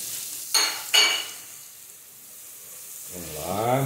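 Onions going into a hot frying pan for a Brazilian pork rib and cassava stew, with two sharp sizzling bursts, a quieter stretch of low frying, then a rising hiss as they are stirred.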